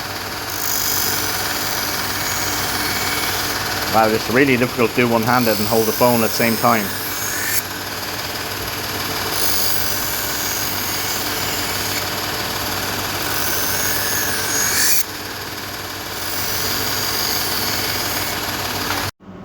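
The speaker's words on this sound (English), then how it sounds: "I ran her a few more times on the polishing wheel" A knife blade is buffed on a powered honing and polishing wheel, the steady motor whir running throughout while a person talks briefly over it early on.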